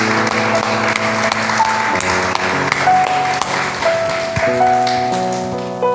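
A church congregation claps for Jesus Christ, a dense steady patter of hands under organ or keyboard notes, fairly loud throughout with no clear talk.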